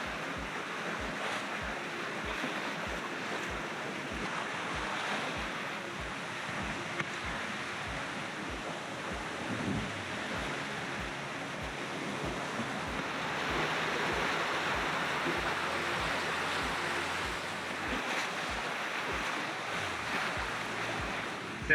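Wind and waves on a sailboat under way past Porquerolles in the Mediterranean, a steady rushing wash of surf and wind noise against the microphone, continuous throughout with no talk.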